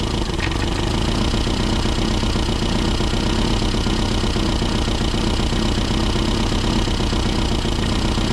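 A Classic Mini Cooper engine idles steadily as its fuel mixture is leaned off, a close, constant, slightly lumpy mechanical rumble with no voices over it.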